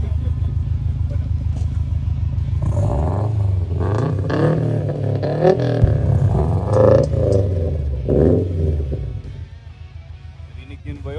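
A 2016 Subaru STI with a big muffler exhaust rumbles deep and steady close by, its engine note rising and falling while people talk over it.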